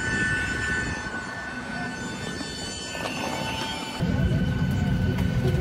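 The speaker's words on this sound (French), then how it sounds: "on est bien monté dans l'avion" Airplane cabin engine noise is a steady, broad roar heard from inside the aircraft. It grows noticeably louder partway through and continues without any speech.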